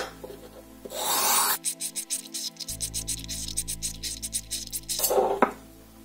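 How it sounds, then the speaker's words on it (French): Recurve knife edge worked over 240-grit abrasive: rapid rhythmic rasping strokes, close and moderately loud, bracketed by softer handling rubs at the start and end. "On passe maintenant avec du grain 240."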